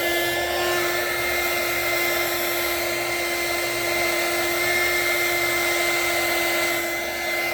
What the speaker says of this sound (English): So just going to turn on this heat gun.